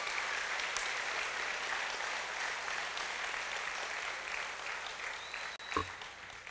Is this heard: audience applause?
yes